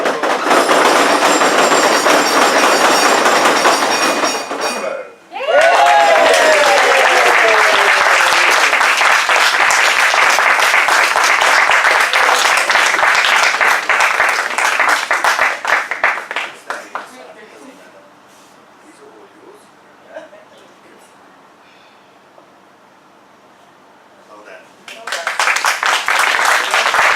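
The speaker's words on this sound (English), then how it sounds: "Just give a big round of applause." A meeting audience gives a big round of applause for a winner, loud dense clapping that dips briefly, surges again, thins to scattered sounds, then swells back at the end.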